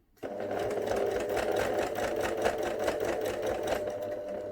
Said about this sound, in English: pop the presser foot back down, and then keep sewing again